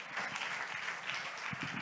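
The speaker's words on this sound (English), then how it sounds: "Round of applause for Krishnan, who's going to do the preview show for you guys." An audience at a conference opening session gives a round of applause, a steady wash of many hands clapping at moderate distance, continuous and fairly soft throughout.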